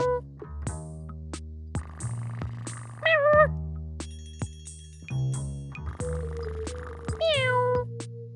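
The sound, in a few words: cat meowing in a kids' English learning video game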